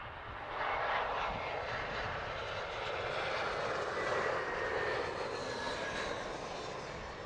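Airbus airliner, likely an A320-family jet, at Heathrow Airport: a steady, loud engine roar with broadband rushing noise that holds level throughout, no talk over it.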